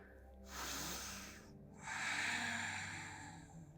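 Deep, slow breaths during a yoga session, close and clear with no talk: a short airy exhale, a pause, then a long, full inhale drawn steadily through the nose.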